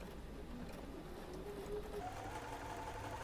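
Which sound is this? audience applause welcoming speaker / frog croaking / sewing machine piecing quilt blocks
sewing machine piecing quilt blocks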